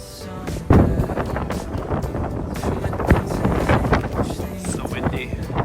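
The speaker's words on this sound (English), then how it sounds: "So windy." Strong night wind buffets a campsite, roaring and gusting steadily with a sharp blast near the start, while people talk faintly underneath.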